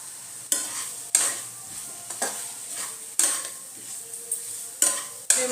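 Potatoes stir-fried with spices in a pan, a spatula scraping and clinking against the metal in repeated sharp strokes over a steady low sizzle, close and alone.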